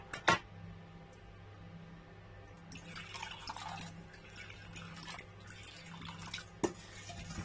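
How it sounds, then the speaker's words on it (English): Water poured from a small spoon or container into seasoned ground beef for cabbage rolls, a faint trickling splash after a couple of sharp knocks, with low kitchen hum underneath and no voices. "I'm going to add a little bit of water"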